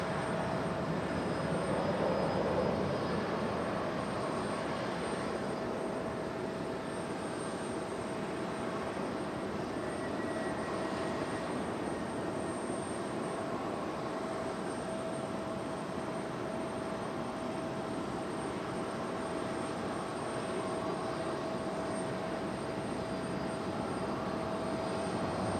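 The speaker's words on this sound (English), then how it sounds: "Reverse thrust. Must not be too heavy." A jet airliner's reverse thrust on landing at Raleigh-Durham International Airport: a steady, roaring engine drone holds for a long stretch at moderate distance, a broad whooshing rumble without much change.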